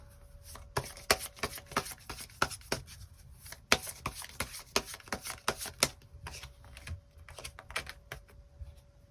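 Tarot cards shuffled and drawn, a quick run of crisp riffling clicks and snaps, close and fairly quiet, with no voices.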